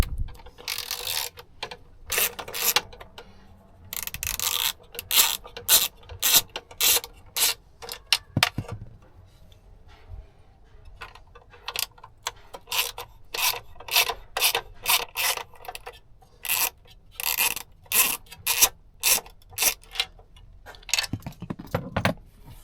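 Torx screws being worked out of a Mazda 3 dashboard, a run of short, sharp metallic rasps and clicks from a driver turning, repeated in quick bursts with brief pauses, close by and with no talking.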